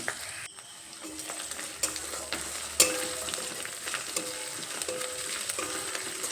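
Ginger and garlic frying with spices in a pan over a medium gas flame, a soft steady sizzle with occasional scraping stirs and a sharper clack near the middle, no voices.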